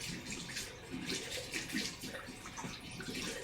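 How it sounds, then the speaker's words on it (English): Steady water running from a tap or shower while hair is rinsed indoors, a continuous broadband hiss filling the whole stretch with no speech. "So I'm going to rinse them just to make them wet"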